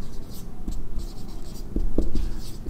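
A pen scratches steadily across paper while working a trigonometry maths problem, a soft continuous scraping with a few sharper strokes near the end, close and alone.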